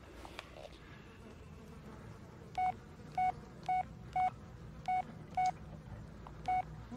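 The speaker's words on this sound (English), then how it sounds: "Oh, that's my phone." A phone in the horror video game Blair Witch rings as a series of seven short, evenly spaced electronic beeps, clear and fairly close over a faint low ambient hum.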